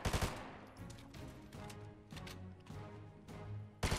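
Bursts of rapid gunfire from the mythic Peter Griffin weapon in Fortnite, loud sharp volleys at the start and end with steadier shooting between.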